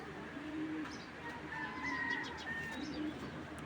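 A large racing pigeon coos softly at close range, giving a few low, throaty coo phrases over a faint background hum with some distant chirps.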